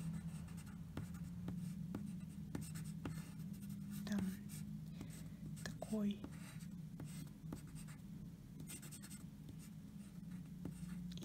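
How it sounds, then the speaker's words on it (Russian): A hard colored pencil, not a watercolor one, sketches on paper with soft, scratchy strokes repeating at a steady pace, while a woman murmurs quietly nearby. "беру там какой-нибудь такой карандаш... Рисую скетч."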